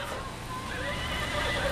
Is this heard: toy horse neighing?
yes